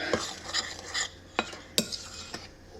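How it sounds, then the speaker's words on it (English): Batter ingredients for a lavender bake are stirred in a bowl with a spoon instead of a whisk, giving quick repeated scraping strokes and sharp clinks against the bowl, close and loud with no talking. "So I said whisk, I'm not whisking, I'm using the spoon."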